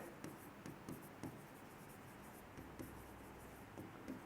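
Chalk or marker taps and scrapes on a board during a maths lesson, in short scattered strokes, quiet and close in a still room.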